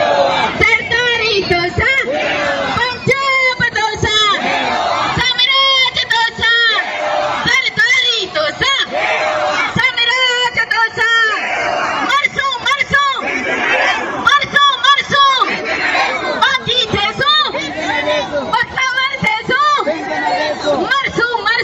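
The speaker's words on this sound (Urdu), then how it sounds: "احتجاج کے اندر آصف علی زرداری کے خلاف نعرے لگ رہے ہیں" A large protest crowd in Sindh chants slogans against Asif Ali Zardari, the massed voices rising and falling in steady, loud call-and-response bursts with a continuous babble of shouting in between.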